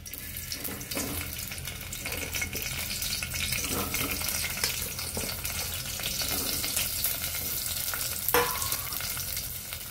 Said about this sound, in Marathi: तेल चांगलं तापून घ्यायचं आणि आपण कांदा चिरून घेतलेला तो घालून घ्यायचा